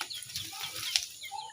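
Pet chickens on a provincial farm cluck and flap nearby in short, scattered bursts, with soft rustling in between.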